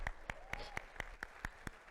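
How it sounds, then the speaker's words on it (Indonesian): Slow, evenly spaced claps at a church sermon, about eight sharp hits in two seconds, fairly faint with a little background murmur. "Buat tepuk tangan."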